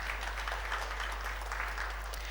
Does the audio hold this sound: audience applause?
yes